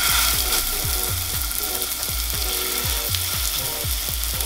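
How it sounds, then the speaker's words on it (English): A lamb loin sears in a hot pan with a loud, constant sizzle and crackle close up, while a quick series of low repeated thumps from the pan runs underneath. "Gonna throw the lamb on."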